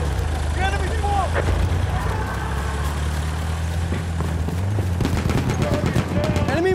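Battlefield 1 battlefield combat with machine gun fire crackling in bursts over a constant low engine rumble, with game voices calling out over the din and repeated sharp reports toward the end.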